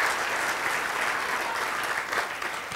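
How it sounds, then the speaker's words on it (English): Audience applause for Cece Black at a theatrical salute show honoring Chita Rivera, a full, steady roar of many hands clapping in a large hall, sustained throughout. "I'd like you to join me in a round of applause for the beautiful Cece Black"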